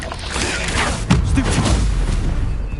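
A fiery Confringo explosive spell blasts in the video game Hogwarts Legacy, a sudden low boom landing midway through a dense, roaring wash of game noise and effects.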